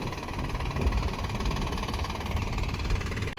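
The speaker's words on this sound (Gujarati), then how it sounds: "આ બાજુ પિયુષ ટ્રેક્ટર લઈને જાય હેરો" A tractor engine runs steadily on a farm, its low, even rumble and knocking throb continuous and fairly close, with no voices.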